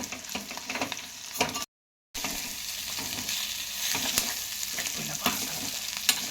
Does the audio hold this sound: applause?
no